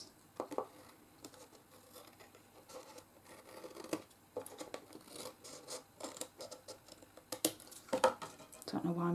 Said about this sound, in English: Don't know why I'm using my little scissors.